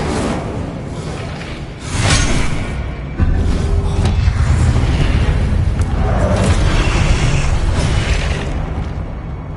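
Confringo and Incendio spell blasts in the Hogwarts Legacy video game, heard as loud, continuous booming explosions and fiery rushes layered over one another with dense rumbling throughout.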